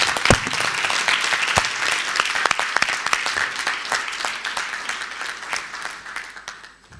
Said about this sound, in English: I would like to ask the audience to give them a very a big round of applause one more time.